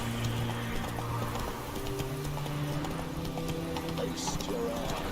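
Clip-clop of Roach, a horse in the video game The Witcher 3, galloping in a steady hoof rhythm under a continuous game music bed, with a brief whinny-like call near the end.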